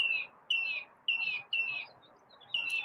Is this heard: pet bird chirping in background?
yes